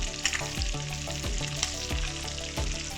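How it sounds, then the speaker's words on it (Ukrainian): Constant hissing sizzle of pork ribs frying in a hot pan, loud and close, with background music and no talking. "ми продовжуємо смажити"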